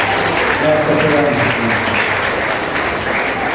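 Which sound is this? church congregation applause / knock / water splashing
church congregation applause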